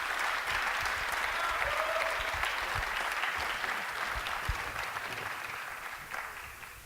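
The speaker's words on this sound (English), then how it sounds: "So give them one big round of applause." Sustained applause from a crowd, dense clapping that holds steady for several seconds and then gradually tapers off.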